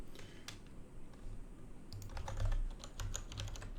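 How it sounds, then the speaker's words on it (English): Steady typing on a mechanical keyboard at a desk, a run of crisp clacking keystrokes that picks up and grows a little louder midway, with a low hum underneath and no talking. "Hopefully my typing isn't too loud."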